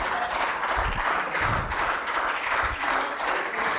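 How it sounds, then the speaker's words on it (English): Audience applause at a university collaboration signing ceremony, sustained clapping from a crowd with rhythmic swells and a few low thumps, close and steady throughout without speech. "Let's keep the applause going as we know this is a historic event"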